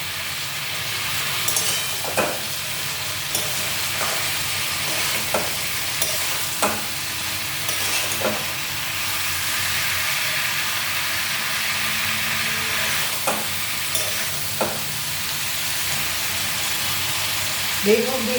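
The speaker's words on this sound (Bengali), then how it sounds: "বেগুনগুলি দিয়ে আরেকটু কষাতে হবে" Eggplant pieces sautéing and being stirred in a pan with potatoes in a vegetarian dish, a steady sizzle under repeated scraping stir strokes, close and continuous.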